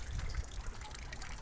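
Water pumped from a bottom pump pours into an aquaponics bin beside an acrylic tank, giving a close, steady splashing trickle with a low bubbling gurgle underneath.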